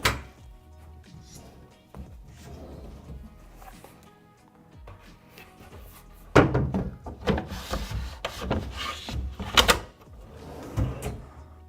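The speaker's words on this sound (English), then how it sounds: "now we're going to go ahead and install the drawers." Cabinet drawers being fitted into an oven pantry cabinet during assembly, with quiet wooden rubbing and sliding at first, then a run of louder knocks and thunks of wood against wood in the second half.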